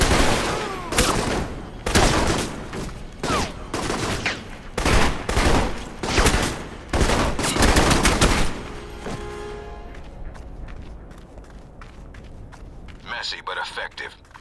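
Rapid bursts of gunfire from the video game Alpha Protocol, loud repeated volleys and clustered shots over the first eight seconds, then fading into scattered faint sounds with a brief distant burst near the end.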